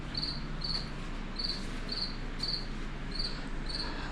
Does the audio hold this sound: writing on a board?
no